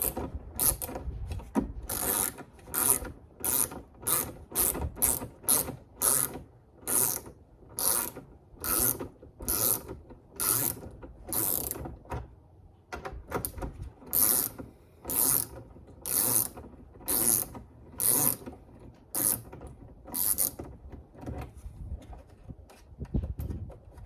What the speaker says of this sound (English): I'll start by removing this bolt here.